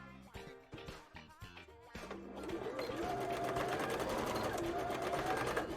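A sewing machine stitching a bra, starting with a few short stop-start bursts and then running in a steady, close, continuous whir, with brief talking near the start.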